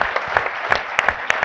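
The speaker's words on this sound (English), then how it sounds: "So please join me in applauding this wonderful panel for their contributions." An audience claps for a conference panel in New York, with a brief burst of scattered, moderately close handclaps.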